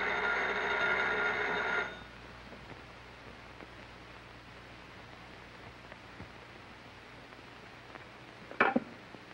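A telephone bell rings loudly and steadily in a 1933 film, cutting off abruptly after about two seconds, followed by quiet background hiss and a brief clatter near the end.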